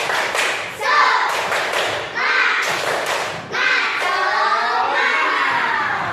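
Schoolchildren in an elementary classroom perform the tepuk semangat clapping chant, with bursts of loud group claps and shouted voices in an energetic, rhythmic pattern nearby.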